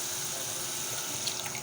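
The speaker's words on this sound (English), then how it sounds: "The remaining stock will now be added to the soup." Stock poured into a pot of melon seed soup, a steady liquid splashing and trickling that runs continuously and fairly close, with a slight rise in splashing near the end.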